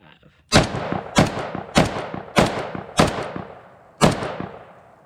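Six sharp, loud 5.56 rifle shots from an Arsenal SAM5 AK-pattern rifle at an outdoor range, fired singly at a steady pace of roughly one shot every half second to a second, each followed by a short decaying echo.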